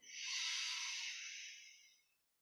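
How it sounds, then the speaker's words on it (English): A single deep inhalation during a calm pranayama breathing exercise, a close, airy hiss that swells quickly and tapers off over about two seconds, alone. "breathing in"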